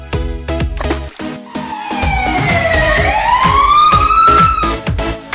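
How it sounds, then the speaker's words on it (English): A toy fire truck siren sounds nearby, a loud wailing tone that dips and then climbs in one long slow sweep over a rhythmic musical backing. "Fire truck."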